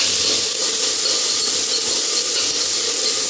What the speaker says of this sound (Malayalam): ക്യാബേജ് ഒരു പച്ചമുളക് ആവശ്യത്തിന് ചേർത്ത് കൊടുക്കാം നന്നായി ഒന്ന് വഴറ്റിയെടുക്കാം